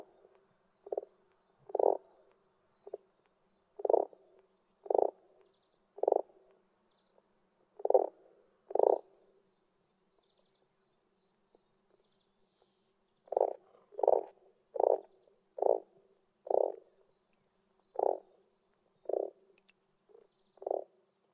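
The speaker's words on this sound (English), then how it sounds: "Its croaking heard a mile across the water." A frog croaks repeatedly in short, evenly spaced bursts, pausing for a few seconds midway before resuming its steady calling.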